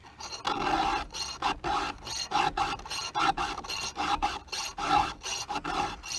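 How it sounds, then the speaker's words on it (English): A chainsaw chain is hand-filed during its second sharpening, producing a steady run of about a dozen close, even rasping strokes in a quick regular rhythm. "I'm thinking this is the second filing on this chain"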